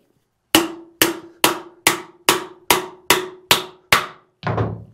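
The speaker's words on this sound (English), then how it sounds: "Grab a hammer, something with some oomph behind it" A hammer strikes a star nut setting tool driving it into a bicycle steerer tube, nine sharp metallic blows at an even, steady pace, loud and close with a brief ring after each, ending in a duller final thud.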